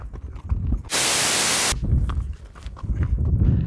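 A horse walks outdoors, with soft, low hoof thuds in an uneven rhythm, interrupted by a loud burst of broadband noise like wind or a spray that briefly drowns them out.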